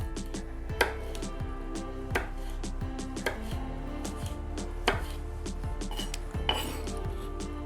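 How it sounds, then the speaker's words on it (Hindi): A knife chopping chili peppers very finely on a board, a close run of sharp, irregular taps with a few louder knocks, no talking. "पहले हम विनेगर में मिर्च को काट कर डालेंगे। इसे हमें एकदम बारीक पतला पतला काटना है।"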